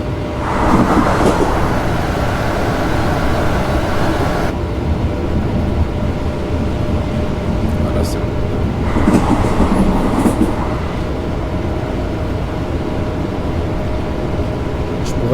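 A BB 26000 electric locomotive hauling coaches on an international night train in a train simulator game, a steady loud rumbling run with rhythmic rail clatter and brief swells of wheel and track noise throughout.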